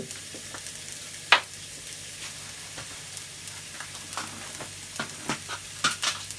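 Glass noodles with egg and pickled garlic stir-fried in a pan, soft scraping stirs and faint sizzle with one sharper clack of the utensil, close and fairly quiet, no talk.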